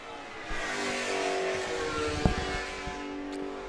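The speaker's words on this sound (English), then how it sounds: "David Porter in the Peugeot 908 as he comes through roller coaster" A Peugeot 908 race car battles through a corner during a vintage SVRA race at Virginia International Raceway. Its engine gives a faint, distant, continuous roar that swells gently, with a short sharp knock partway through.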